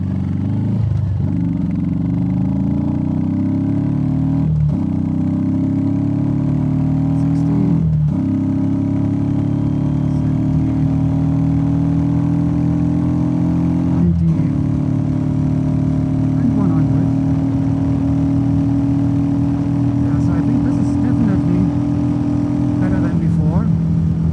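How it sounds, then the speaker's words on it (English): A Royal Enfield Meteor 350 fitted with a DNA air filter and a Classic 350 exhaust pulls up toward 100 under steady throttle, its engine drone rising gradually through gears, with short breaks at gear changes and a voice talking over it. "let's see how the engine pulls up to 100."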